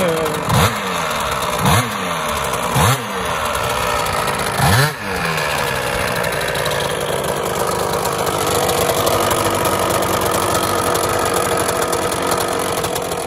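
A Piaggio NRG 94 moped scooter engine with a Polini kit, running on ethanol, sputters through several quick revs, then settles into a steady, buzzing idle, loud and close.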